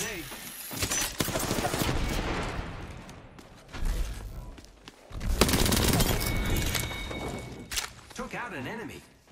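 A grenade blast in a shooter video game comes through as heavy booms and rattling bursts amid sustained gunfire, with loud swells near the middle and a voice talking over the combat.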